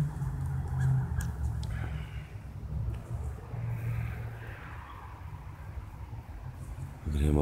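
Geese honk and chatter nearby in a loose, repeated back-and-forth, fairly loud over light outdoor background noise.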